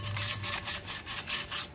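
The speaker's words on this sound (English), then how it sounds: "I will use some sandpaper to get the rest of the stuff off." Sandpaper scrubbed by hand across a cast iron skillet during restoration: rhythmic back-and-forth rasping strokes, close and fairly loud, repeating about every quarter second.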